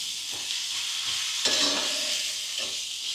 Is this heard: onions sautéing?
yes